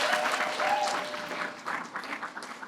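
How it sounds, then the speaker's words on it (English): Studio audience applause, fairly light and close, with scattered claps that swell and fade unevenly across a few seconds. "Give him a round of applause."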